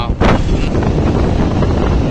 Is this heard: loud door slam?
no